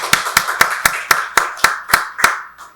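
Congregation in a Korean church Sunday worship service clapping in unison, nine sharp, evenly spaced claps about a quarter-second apart, loud and close, the last one fading softly.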